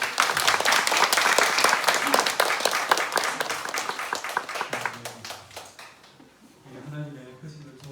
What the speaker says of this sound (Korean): 다 같이 격려의 박수 한번 부탁드립니다.